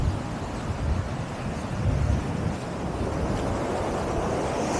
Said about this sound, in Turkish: Su nasıl coşuyor ya. Dalganın büyüklüğüne bakın ya.